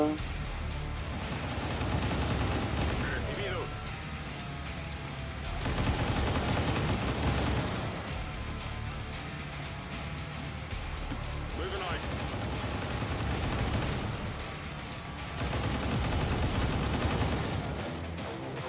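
Gunfire in XCOM 2 War of the Chosen during an ambush on ADVENT, bursts of rapid shots swelling in several loud clusters over a constant background of combat noise.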